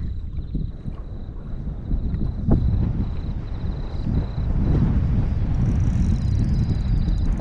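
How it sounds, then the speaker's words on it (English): Strong wind rushes across a lake during a bass fishing outing, making a loud, constant roar and buffeting against the microphone, steady throughout with no talking. "Wind's picked up."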